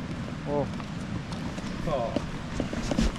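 Horse hooves clip-clop in a few short bursts at close range during a ride in Gudamakari, Georgia, mixed with voices talking and general outdoor noise.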